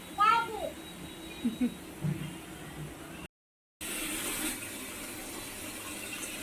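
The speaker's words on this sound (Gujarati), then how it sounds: "પાણી ભરે છે તુષાર." Tap water runs into a baby bathtub as a steady rushing hiss, with a brief break midway, while a voice and an adult's speech sound nearby in the first half.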